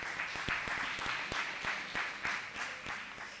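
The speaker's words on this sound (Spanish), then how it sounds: "Un aplauso para José Manuel." Faint, distant applause from an audience at a project presentation event, steady clapping with a few sharper claps standing out, no voices over it.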